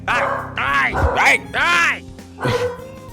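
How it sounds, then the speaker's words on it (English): A dog barks and yips several times, close and loud, in short bursts. "Why is she barking?"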